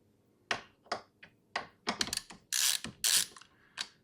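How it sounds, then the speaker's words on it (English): Thumb screws on a Minisforum MS-02 mini PC case are worked loose by hand. Close, quiet creaks and clicks come in uneven bursts, with a few sharper scraping squeaks. "let me loosen these two thumb screws."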